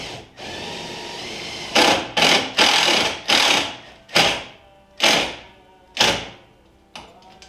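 A power drill drives self-tapping screws into a bracket on a 2006 Duramax, whirring up in seven short bursts that each wind down, the sixth and seventh spaced out near the end.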